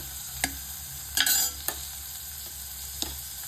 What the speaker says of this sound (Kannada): ಸ್ಟವ್ ಹಚ್ಚಿ ಒಂದು ಕುಕ್ಕರಲ್ಲಿ ಈರುಳ್ಳಿ ಬೇಯಿಸ್ಕೊಳ್ತಾ ಇದ್ದೀವಿ.